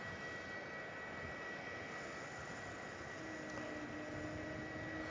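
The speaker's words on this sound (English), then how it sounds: "Jetstar 216 from Auckland just went over the Craigieburn bypass" A Jetstar jet airliner inbound from Auckland passes over near Melbourne Airport, heard as a steady, distant broadband roar with a faint rising whine, continuous and alone with no talk.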